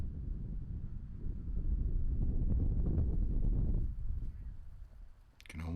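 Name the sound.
wind blowing on the disc golf course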